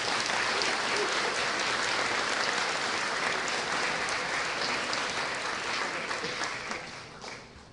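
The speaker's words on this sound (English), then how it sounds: "So let's welcome them back with a warm round of applause." A concert crowd gives a community band a warm round of applause, thick sustained clapping that stays loud for several seconds before fading out near the end.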